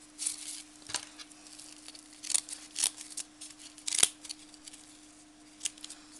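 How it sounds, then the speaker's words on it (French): Scissors snipping along the edges of a craft frame, quiet irregular cuts and rustles with a faint steady hum underneath; no talking. "Coupez bien les bords"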